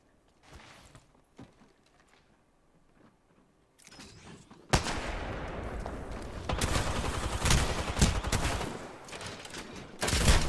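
Rapid bursts of Volt submachine gun fire in an Apex Legends Season 10 fight, sparse shots at first, then a dense, loud sustained barrage with overlapping gunfire from about five seconds on.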